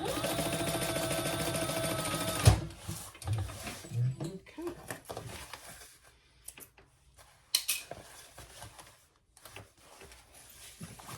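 A sewing machine runs fast and loud, stitching a seam at full seam allowance on an enlarged triple sling, then stops after a couple of seconds, leaving soft handling, rustles and faint sounds.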